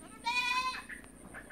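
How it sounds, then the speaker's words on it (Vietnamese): A neighbour's goat gives one clear, nasal bleat at a riverside home in the countryside, followed by softer bird calls and quiet ambient sounds. "Dê kêu là hàng xóm mình nuôi dê bên đây nè."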